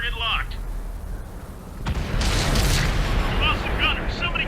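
A tank cannon fires in a video game with a sudden heavy boom, followed by a loud rumbling, mechanical roar of the tank; a short burst of higher noise comes first.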